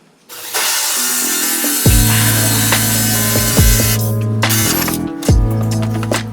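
A drill whirs steadily while boring a hole in wood for a deadbolt, the motor pitch dipping and surging several times as the bit bites in, close and loud.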